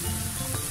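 Onions and pieces of fried chicken sizzle in a hot pan, a dense, continuous hiss and crackle heard close up in a short burst with no talking.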